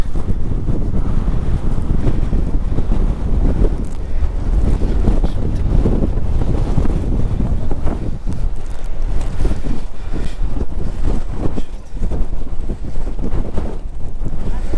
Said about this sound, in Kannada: ಗಾಳಿ ಹಿಂಗೆ ಪುಷ್ ಮಾಡ್ತೈತೆ